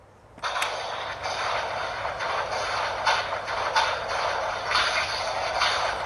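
A CSM Arcle henshin belt toy plays a fire sound effect through its small speaker, a steady hissing crackle with faint rhythmic pulses, continuous and fairly quiet after a short silence.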